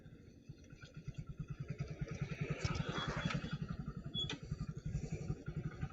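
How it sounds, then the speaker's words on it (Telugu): A motorcycle engine runs at idle on the roadside beside NH-16 as the bike comes to a stop, its steady rapid low thumping loud and close with a brief clattering rise midway. "బైక్ ఆపేసి,"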